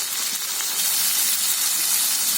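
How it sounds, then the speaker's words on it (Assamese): Long beans frying in a pan over a raised flame, giving a steady, even sizzle and hiss that stays loud and close the whole time with no voices. "এনেকৈ অকণমান টাইম ফ্ৰাই হৈ থাকক। ফ্লেমটো বঢ়াই দিছোঁ মই।"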